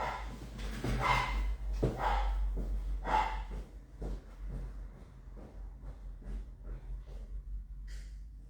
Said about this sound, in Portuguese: E quando ela tem o latido dela assim, eu tenho que correr atrás.